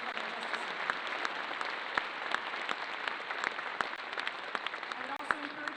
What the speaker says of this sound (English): So big round of applause for Kate Gilchrist.